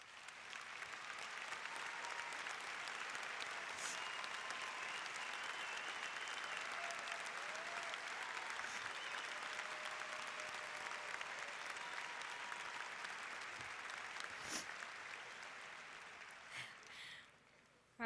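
Crowd at a high school graduation ceremony applauds military members and veterans, a long, even roar of clapping from a large audience that swells, holds, then tapers off near the end.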